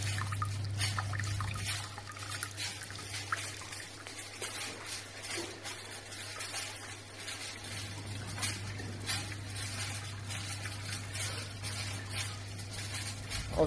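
Water trickles and drips in a steady thin stream from a reflux still distilling alcohol, soft and close, over a low electrical hum.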